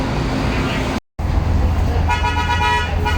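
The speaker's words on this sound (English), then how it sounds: "That is a chicken bus." Street scene in Guatemala with a chicken bus, a converted old school bus, rumbling and idling nearby amid traffic, a horn tooting, a brief dropout mid-clip, and people talking over it.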